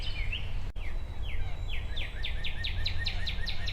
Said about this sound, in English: Another cardinal.